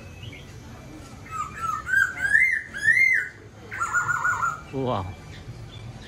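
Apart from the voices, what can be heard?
parrots squawking in the rain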